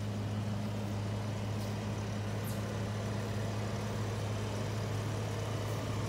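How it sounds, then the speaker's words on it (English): A stock, all-original 1986 Mercury Capri RS ASC McLaren idles steadily, its low engine hum constant and even throughout with no voices. "The car is currently running."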